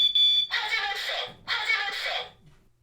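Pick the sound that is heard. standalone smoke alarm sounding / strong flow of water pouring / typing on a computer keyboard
standalone smoke alarm sounding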